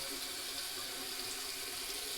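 Water runs steadily from a bathroom tap into a sink while a man shaves, a constant faint splashing hiss with no pauses.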